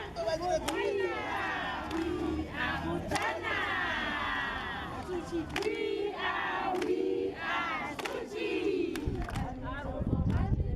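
Residents in Botswana cheer and shout together as a lively crowd, voices rising in repeated excited bursts with some clapping and chatter throughout, growing louder near the end.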